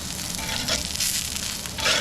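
Quesabirria frying on a cast iron grill in a backyard, a close, steady sizzle with crackling bursts and no talking.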